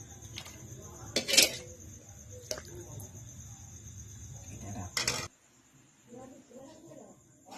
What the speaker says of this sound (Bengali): মা এখন ডাল রান্না করে ফেলেছে, কড়া থেকে ডাল তাম্বিতে তুলে রাখছে।